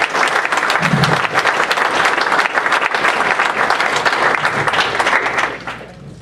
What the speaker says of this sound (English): How about a hand clap for that?